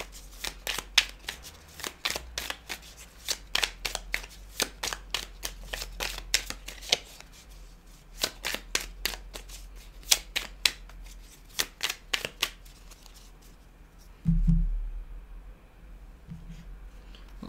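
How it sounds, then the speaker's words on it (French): Tarot cards shuffled by hand, a long run of crisp, close riffling snaps in quick bursts with short pauses. Near the end come a soft thud and a low knock. "Mon tirage est très clair, mais je vais quand même remettre des cartes, hein, bien sûr."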